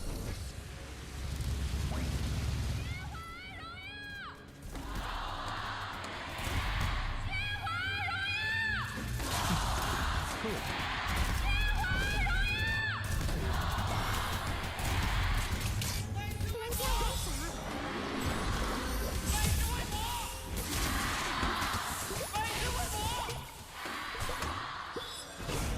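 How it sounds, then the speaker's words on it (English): A loud esports arena crowd at a KPL Summer Season grand final roars and chants in rhythmic waves, with whistles and cheers rising and falling throughout. "let's hear some chants"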